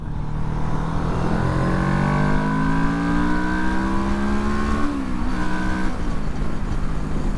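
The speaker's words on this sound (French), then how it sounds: "Alors on va faire une petite accélération si on peut." A 2007 Kawasaki ER6N motorcycle accelerates hard, its engine note climbing steadily in pitch for about five seconds before a brief dip at a gear change, then pulling on. It is loud and close, with constant wind rumble underneath.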